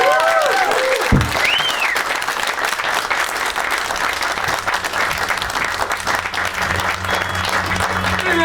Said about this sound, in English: Give a round of applause for Marky Worthington, everyone.